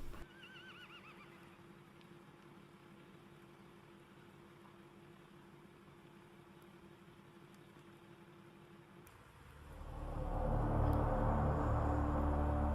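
A sick horse with colic, unable to stand, whinnies in a trembling, high call at the start over a low engine-like hum, followed later by a louder rushing noise.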